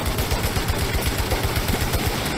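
Rapid automatic gunfire in the PS5 action game Returnal, a steady stream of low, thudding shots in quick rhythm, loud and continuous over a busy layer of game effects, with no talk.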